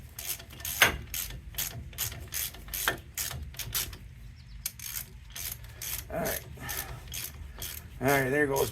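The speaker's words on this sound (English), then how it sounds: "we're gonna start drawing this thing in. Do it nice and even." A ratchet drawing in a front wheel bearing on a Ford F150, a series of quick clicking strokes in a steady rhythm, close and fairly quiet, with a brief pause midway and grinding metal rubbing at the end.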